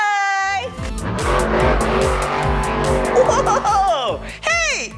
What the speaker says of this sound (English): Sounds like a monster truck.